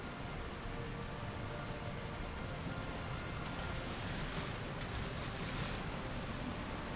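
A waterfall in the Star Trek Online video game gives a steady, dense rushing roar of falling water that holds at an even level throughout, with no voices over it.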